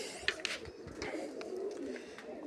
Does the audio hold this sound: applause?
no